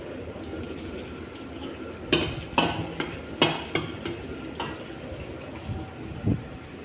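Onions stirred in a frying pan for a Filipino-style short-order dish, with a steady low sizzle and a few sharp scraping clanks of the utensil against the pan.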